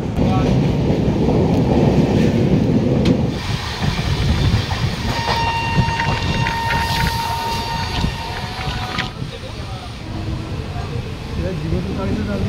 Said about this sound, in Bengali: এই ট্রেনের পুরী যাওয়ার প্রথম স্টেশন সাঁতরাগাছি জংশন এসে পৌঁছালাম।